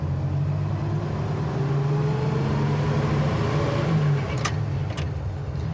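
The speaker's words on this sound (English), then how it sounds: "These old 3 on the trees are pretty fun to drive," A 1966 Chevy C10 pickup with a three-on-the-tree column shift drives along, its engine a steady low drone with road rumble, heard from inside the cab, rising slightly in the middle, with a couple of faint clicks near the end.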